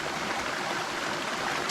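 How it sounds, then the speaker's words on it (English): A waterfall along the Rose River in Shenandoah National Park, a steady, close rushing roar of falling water heard alone without talk. "Wow, that is a waterfall and a half."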